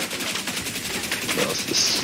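Rapid automatic gunfire from a video game plays as a dense, continuous burst of shots for about two seconds, moderately loud, with no talking over it.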